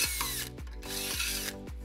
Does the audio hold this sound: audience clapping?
no